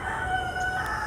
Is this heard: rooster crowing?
yes